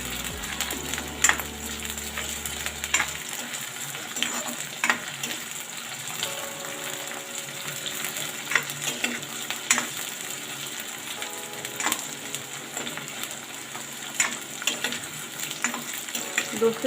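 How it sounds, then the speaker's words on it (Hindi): Okra (bhindi) frying lightly in a pan: a steady, close hiss and crackle with scattered sharp pops and occasional utensil clicks throughout. "मैं ये भिंडी यहाँ पर फ्राई करने के लिए ऐड कर दी है"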